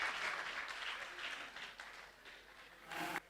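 An audience at a PASAG National Health Week quiz event claps for the chairperson, soft, distant scattered clapping that thins out, then returns briefly before an abrupt loud burst at the end.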